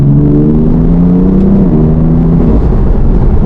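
A car engine drones loudly through its exhaust, a steady, continuous note that shifts pitch a couple of times as the revs change, with no voices.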